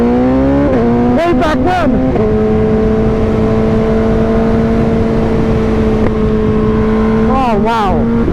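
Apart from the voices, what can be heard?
BMW HP4 motorcycle engine revving while riding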